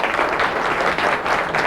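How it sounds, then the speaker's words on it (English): A crowd at a high school quiz bowl championship applauds, producing dense, steady clapping that fills the brief moment without a pause. "Let's give them another round of applause."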